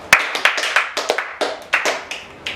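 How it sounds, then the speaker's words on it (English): A small chemistry class gives a classmate a round of clapping, crisp individual hand claps in an irregular, scattered rhythm, close by and dominating the moment. "Clap for her."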